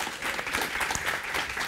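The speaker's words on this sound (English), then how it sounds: "You can applaud, yes." A conference audience at an Update or Die panel session claps to welcome the panelists, a brief, dense burst of steady applause from many hands in a hall.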